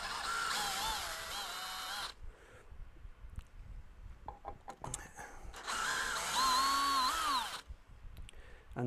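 A power drill drives thin, low-quality screws in two bursts of whining, rising motor sound with a quieter stretch of clicks and handling noise between them, close by.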